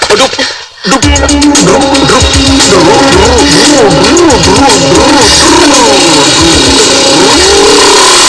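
A motorcycle engine revs repeatedly, its pitch rising and falling in loud, close bursts after a brief dip at the start.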